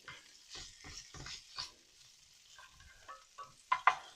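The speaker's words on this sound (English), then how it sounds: "So I'll continue to cook the andouille." Andouille sausage sizzles and browns in a pan for shrimp and grits, a quiet crackling fry broken by scrapes and clinks of stirring, with a couple of sharper clatters at the end.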